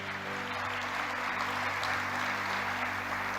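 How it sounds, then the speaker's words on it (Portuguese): A church congregation claps steadily and evenly throughout, a dense sustained applause that fills the space with no pauses, over a low organ or keyboard hum. "Quem aplaude a Deus aqui?"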